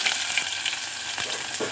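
Onions and green chillies fry in hot oil with a steady, close sizzle and faint stirring scrapes across a short stretch, and no one speaks.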